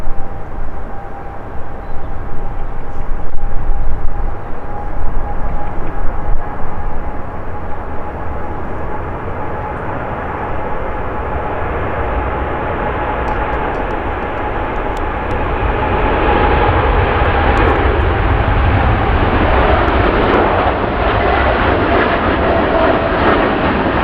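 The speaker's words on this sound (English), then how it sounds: "Another TUI Dreamliner." A TUI Boeing 787 Dreamliner airliner passes at Manchester Airport, its jet engines making a loud, continuous broadband roar that builds and holds throughout, close and steady without speech.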